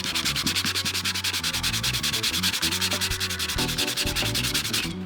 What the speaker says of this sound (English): Then I'm going in with the finer sandpaper.